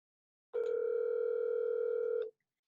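A steady telephone dial tone sounds during a call attempt, holding for just under two seconds at a constant pitch and then cutting off abruptly into silence.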